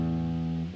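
A single sustained chord rings out clearly, steady and even, fading slightly at the end.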